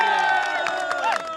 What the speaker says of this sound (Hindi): जोरदार तालियां बजाओ अपने लिए